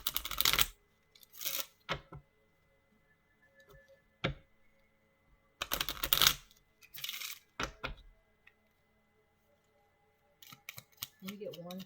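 Kipper fortune cards are shuffled and pulled in sharp bursts of riffling and flicking with short taps and clicks between them, close and quiet in an otherwise silent room.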